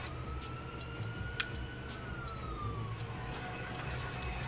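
Police siren wailing outside at night, a faint, distant rising and falling tone that drifts on through the whole stretch beneath a low background hum, with one brief sharp click partway through.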